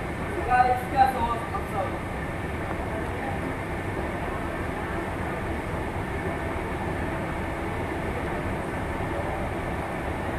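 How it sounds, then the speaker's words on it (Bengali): Trains rumble at a busy Kolkata railway station, a steady low mechanical roar filling the platform with a louder burst early on, and voices speaking over it. "আমরা এখন স্টেশন আছি, দেখো চারিদিকে শুধু ট্রেন আর ট্রেন।"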